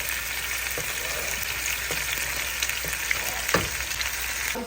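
Curry leaves temper in hot oil for a vegetarian meal, producing a steady, dense sizzle with scattered sharp pops and crackles close by; nobody speaks.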